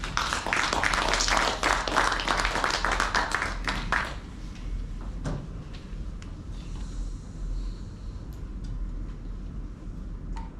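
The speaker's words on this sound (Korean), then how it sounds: "다시 한번 따뜻한 격려의 박수 부탁드립니다." Audience applause at a book concert, a dense burst of clapping from a crowd lasting about four seconds, then fading to quiet room tone with scattered faint claps.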